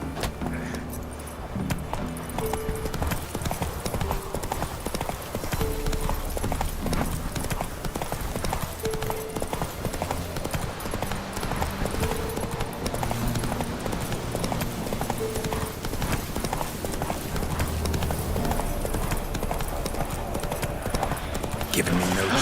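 Geralt's horse Roach gallops in The Witcher 3 with rapid, steady hoofbeats that drive on throughout, mixed with jangling tack and game ambience, while a voice speaks over it.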